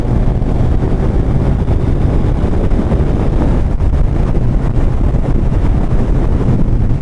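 Steady, heavy wind roar buffets the microphone of a Suzuki Hayabusa motorcycle riding on cruise control, a constant low rushing noise with no voices.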